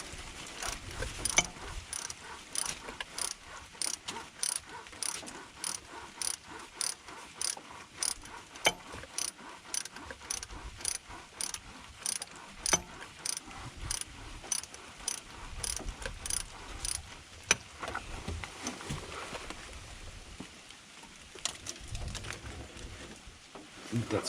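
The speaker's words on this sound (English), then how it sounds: "Might have to break out the 1/2-inch drive." A 1/2-inch drive ratchet clicks in long repeated runs of sharp pawl ticks, close and steady, while loosening alternator bolts on a Ford F-350 Super Duty 6.8L Triton V10, with brief pauses between strokes.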